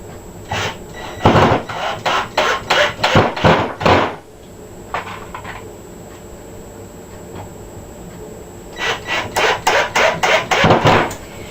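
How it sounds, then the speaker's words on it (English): A power driver buzzes in repeated rapid bursts as screws bite into the wood of a thread storage rack, pauses for a few seconds, then resumes with another run of rhythmic grinding pulses. "Now I'll put the screws in starting at either end and work my way toward the middle."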